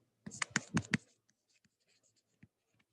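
Chalk or marker strokes on a board during a physics lecture on P-N junction electric fields: four quick, close scratchy taps in a burst, then a few faint scattered touches, with no talking.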